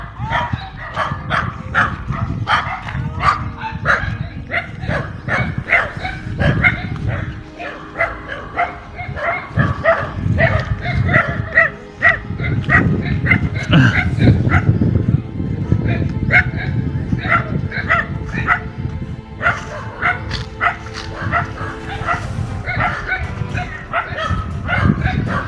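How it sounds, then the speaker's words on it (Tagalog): A pack of dogs barks repeatedly near a rural Philippine home with plants and crops, steady overlapping barking and yipping close by, mixed with people talking throughout. "Ang daming aso."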